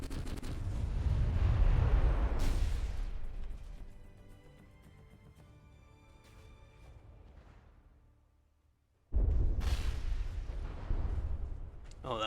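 Heavy booming cannon blasts in the game From the Depths, with long rumbling decays, one burst early and another sharp blast near the end after a quiet stretch.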